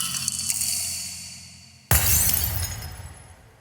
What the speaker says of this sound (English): I'm so drunk I dropped my glass